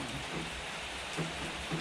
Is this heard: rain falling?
yes